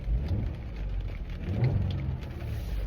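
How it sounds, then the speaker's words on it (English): Steady patter of rain drumming on the roof of a car during a downpour, a continuous close wash of drops with no talking. "it is raining right now on the top, so hopefully that isn't like ruining the audio"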